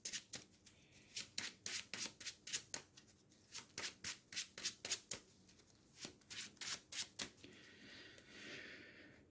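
Cards are shuffled up close: a run of rapid, crisp riffles in steady bursts, then a softer rustle as the deck settles, no speech.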